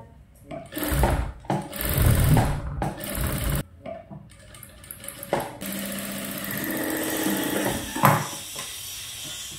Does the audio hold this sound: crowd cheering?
no